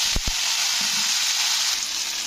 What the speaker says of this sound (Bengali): আলু কাঁচকলাগুলোকে একটু ভালো করে ভেজে নিতে হবে